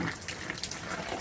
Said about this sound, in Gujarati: આમ જોતો વરસાદનો ન પલરાય ચીકુ.